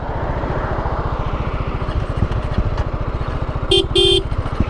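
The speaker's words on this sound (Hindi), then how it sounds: "हॉर्न दे रहे भाई।" Vehicle horn honks twice near the end, short bright blasts over the steady loud buzzing drone of racing motorcycles, a 2026 Apache RR310 and Pulsar NS400z at a drag race.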